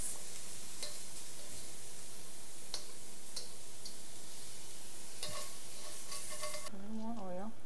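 Shrimp frying and being stirred in a pan with oil, producing a constant sizzle with scattered utensil ticks and scrapes, and a short voice near the end.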